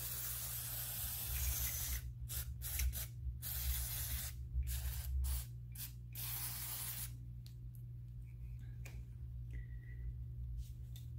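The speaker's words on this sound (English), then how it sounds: "give it a good spray with our MAF sensor cleaner" Several short, close hissing bursts from an aerosol MAF sensor cleaner can sprayed onto the mass airflow sensor of a third-generation Toyota Tacoma, then a longer continuous spray, with brief pauses between them.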